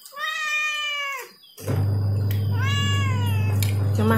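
A cat begging for food meows twice, loud and close, with rising, drawn-out calls; a steady low hum starts midway through, like a kitchen appliance.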